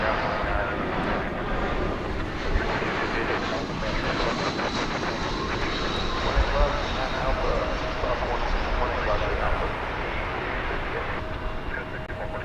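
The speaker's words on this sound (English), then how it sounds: "2653 American Airlines from Fresno, California, and Airbus A320." An American Airlines Airbus A320 arriving at DFW Airport from Fresno, California, producing a steady, continuous jet roar that holds at a fairly even level throughout, with a constant broadband rumble outdoors at the airport.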